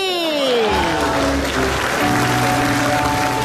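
Studio audience applause on an Indonesian comedy talk show, a steady wash of clapping under loud sweeping music and jingle tones throughout.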